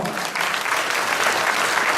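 A hall audience at the Carpathian Cup 2013 event applauds, a dense, steady wash of many hands clapping at close range for the full two seconds.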